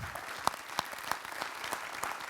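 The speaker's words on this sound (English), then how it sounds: "I believe you can hear your applause" Audience applause after a presentation, a steady patter of many hands with a few sharper claps standing out, moderately loud and continuous with no talking.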